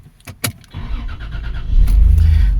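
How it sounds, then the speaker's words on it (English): A 2002 Toyota Land Cruiser Prado starts up: a few clicks and a short crank, then the engine catches and settles into a loud, close idle, with an underlying buzz present once it runs. "That buzzing sound is coming from somewhere in this region, and it only happens when you turn on the car"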